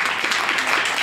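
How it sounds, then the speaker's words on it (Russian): Audience at the Moscow House of Books giving applause to the artists of a reading event: a brief, dense wash of clapping, steady and fairly close throughout. "давайте подарим аплодисменты"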